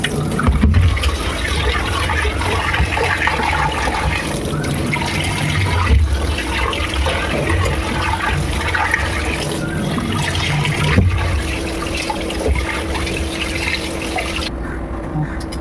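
Water runs steadily and loudly from a tap while fish is washed in a home kitchen for fish curry, a constant splashing rush lasting the whole stretch.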